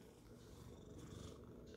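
A cat purrs close up, a continuous rumbling purr with a steady rhythmic buzz, loud and alone without talk.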